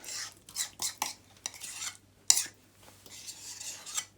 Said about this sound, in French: mélanger le riz et la mayonnaise